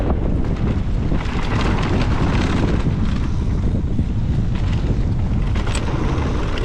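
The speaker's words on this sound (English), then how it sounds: "It's windy." Strong wind buffets the microphone on a dirt trail during a high-wind e-bike ride, a loud continuous roar and rumble that stays steady throughout with no speech.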